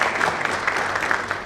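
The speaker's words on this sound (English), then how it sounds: "We'd like to thank all of them with a big round of applause for supporting us on this summit." Audience applause at a pharmaceutical industry annual summit, a steady wash of clapping from a large crowd filling the whole short stretch at moderate loudness, with no voices over it.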